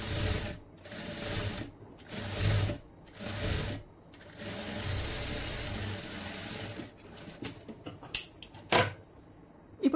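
A sewing machine stitches a boat neck dress in several short, close whirring runs separated by pauses, ending with scattered clicks and taps as the cloth is turned under the presser foot.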